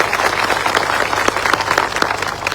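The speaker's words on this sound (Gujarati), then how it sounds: "એવા તમામ પોલીસ અધિકારીઓ માટે એકવાર જોરદાર આપણે તાળીઓ પાડી લઈએ" A crowd at a rally claps for police officers, with dense, lively applause that stays steady throughout.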